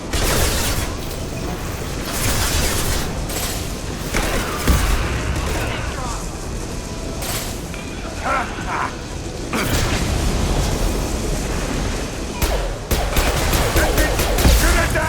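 Gunfire and explosions in Mass Effect 2 as a hanging object is shot loose and brought down, with rapid bursts, heavy booms and sustained loud battle noise throughout, voices calling out between shots.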